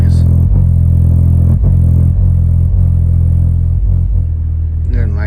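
An Infinity BU-1 subwoofer driven in free air on a low bass test tone, giving a loud, steady deep hum with rumbling motor noise and periodic dips and clicks in the drone.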